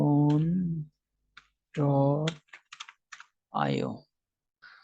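A burst of computer keyboard clicks as the URL pantheon.io is typed, quick light taps close by, set between stretches of someone speaking.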